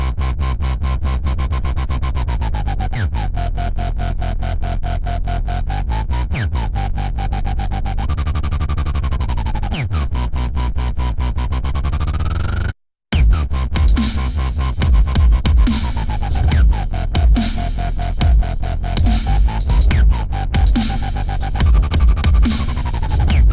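A synth bass patch with chorus and distortion plays gliding, sustained bass lines over a driving electronic beat, with one brief dropout partway through, loud and dense without any talk.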